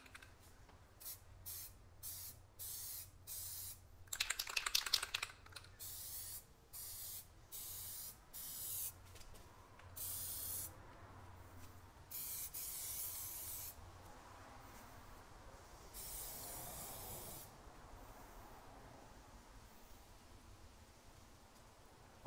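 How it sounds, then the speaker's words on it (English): Glossy Rust-Oleum spray paint hissing from an aerosol can in repeated short bursts, with a longer sustained spray near the middle, applied as a coat over Plasti Dip emblems on a Fisker Ocean One. "now for the glossy Rust-Oleum"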